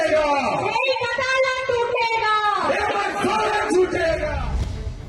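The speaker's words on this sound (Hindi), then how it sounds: "इतना कहते ही पार्टी के समर्थक चिल्ला उठते हैं" Party supporters at a political rally in Jharkhand shout together in a loud, sustained crowd chant with drawn-out voiced yells, close and continuous, fading slightly at the end.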